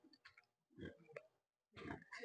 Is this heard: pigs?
yes